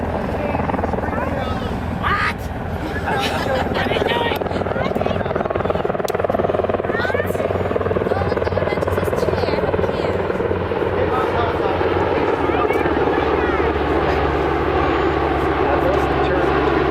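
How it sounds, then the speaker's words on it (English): At a 2008 airshow, a helicopter takes on fuel in flight from a fixed-wing aircraft. A loud, steady rotor and engine drone fills the whole stretch, and voices talk over it from the crowd. "In refueling a rotary wing with a fixed wing offers its own challenge."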